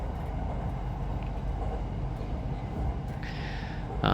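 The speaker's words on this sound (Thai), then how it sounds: "ตอนนี้นะฮะเรากำลังขึ้น บนทางรถไฟยกระดับเข้าสู่สถานีกลางกรุงเทพอภิวัตนะครับ" A Bangkok SRT Red Line commuter train climbs onto elevated track toward Krung Thep Aphiwat Central Terminal, heard from inside as a steady low rumble and rolling drone, with a brief brighter hiss near the end.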